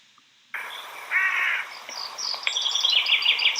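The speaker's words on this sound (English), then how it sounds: "when you hear a crow noise in a horror film, the audience automatically feel there's something going wrong" Crow cawing used as a horror film sound effect: a few harsh, rasping caws and calls ring out after a moment of silence, with higher chirping bird calls joining in behind them.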